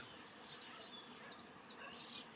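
A swarm of honeybees buzzes around beehives that have tipped over, a steady dense drone with individual bees whining past close by, continuing without pause.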